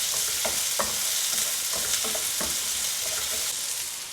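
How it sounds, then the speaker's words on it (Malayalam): Onions fry in hot mustard-seed oil with a steady, close sizzle, while a spoon stirs and scrapes the pan in irregular light knocks. "സവാള ഇട്ട് ഇളക്കുക."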